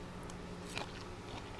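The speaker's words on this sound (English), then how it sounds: "You get the crunch of the breadcrumbs." One brief, faint crunch of a bite into a whole fresh snapper, dock-caught and coated in breadcrumbs, over a quiet background hiss.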